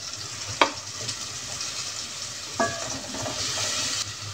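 Tomatoes drop into a hot pan and fry with a continuous sizzle, broken by a couple of sharp clinks and scraping stirs, heard up close with no talking.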